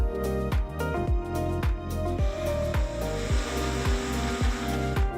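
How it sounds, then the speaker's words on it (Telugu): A mixer grinder grinding soaked urad dal and rice with water whirs steadily, its motor drone broken by regular rhythmic thumps about twice a second as the batter churns. "నానబెట్టిన మినపప్పు, బియ్యం కూడా మిక్సీ జార్లోకి వేసుకుందాం"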